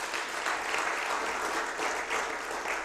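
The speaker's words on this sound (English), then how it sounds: "Let's clap for them." An audience at a film festival claps steadily, a sustained wash of applause from many hands at moderate volume, without speech over it.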